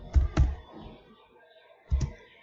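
A few sharp keystrokes on a computer keyboard while an Amass command is typed, two quick clicks, a pause, then another pair, close and isolated in quiet.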